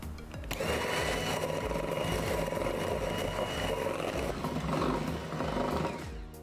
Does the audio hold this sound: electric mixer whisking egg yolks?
yes